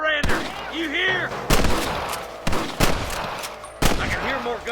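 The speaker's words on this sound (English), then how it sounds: "I can hear more gunshots." Gunfire in the Red Dead Redemption video game: several loud, sharp shots crack at irregular intervals, with shouting voices in between.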